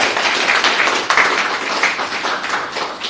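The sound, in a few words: audience applause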